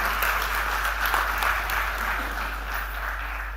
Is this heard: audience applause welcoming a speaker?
yes